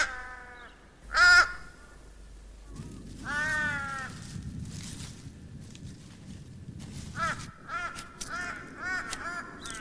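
Ravens calling at dawn near alpine caves and crevices where bogong moths shelter, giving a few harsh caws, some close and loud, spread across the scene over a steady rustling background.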